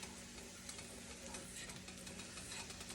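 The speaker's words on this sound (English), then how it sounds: "I put about a tablespoon of butter in here. We're just going to soften up these apples." Diced apples soften in about a tablespoon of butter in a pan, giving a soft, steady sizzle with light stirring scrapes, faint and close throughout.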